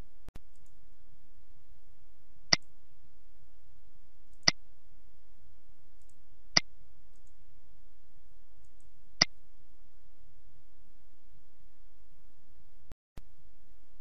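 Computer mouse clicking during a D2L Brightspace gradebook setup: four crisp, isolated clicks spaced a couple of seconds apart in an otherwise quiet room.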